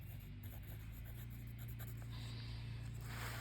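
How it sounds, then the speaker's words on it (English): A pen scratches out the game's start time in a baseball scorebook, a soft, faint scribble beneath steady low hum and room noise. "So I'm going to write that down."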